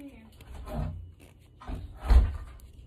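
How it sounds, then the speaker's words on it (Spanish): A door or cupboard is pushed shut indoors, with soft handling bumps followed by a firm, close thud near the end, heard around faint background voices. "Cierra bien esa puerta, ¿viste?"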